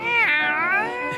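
A cartoon cat from The Smurfs lets out one drawn-out, wavering meow, close and clear, rising and bending in pitch before trailing off.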